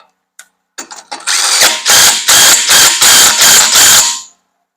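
A ratchet wrench tightens a 19mm bolt on an Onan Marquis Gold 5500 generator during a coupler repair, starting with a few isolated clicks, then settling into a loud, close, steady run of about nine rapid ratcheting bursts.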